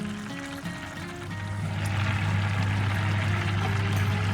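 Hot water poured into a pot of Rayo mustard greens and kinima (fermented soybean) curry, a steady splashing pour that swells after a brief start and continues close and fairly loud.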